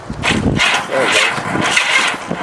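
A 1985 Honda Gold Wing 1200cc motorcycle engine being turned over by the starter, a rhythmic, labouring cranking heard close and moderately loud across a few seconds, with no engine catch.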